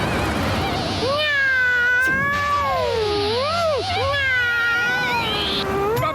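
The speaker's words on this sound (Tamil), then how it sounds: "அட ஆமா, அந்த பூனையோட சத்தம் கேக்குது." A cartoon cat from the Motu Patlu animated series meows loudly and close, with long, wavering, drawn-out yowls that rise and fall repeatedly over several seconds above a low background rumble.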